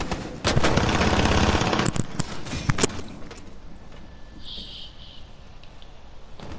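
Rapid automatic gunfire in the tactical shooter Rainbow Six Siege, a loud dense burst over the first two seconds followed by a few sharp single shots, then quieter in-game ambience.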